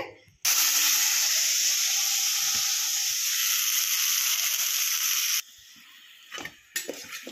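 Loud, steady hiss of cabbage pakoras deep-frying in hot oil for several seconds, then it drops to a quieter sizzle with a few faint clatters.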